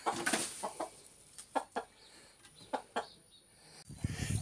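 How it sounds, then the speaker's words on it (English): Backyard chickens on an off-grid homestead cluck in short, scattered bursts, fairly close but soft, with quiet gaps between calls. "Here's one of our chickens."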